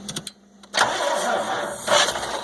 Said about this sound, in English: Go ahead and crank it.